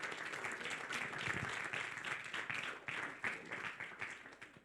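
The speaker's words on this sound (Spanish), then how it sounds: "Den el aplauso al Señor, hermano." Inside a church during a Spanish-language service, the congregation claps together in a continuous, fairly even roar of hands, heard at a distance and quieter than nearby speech.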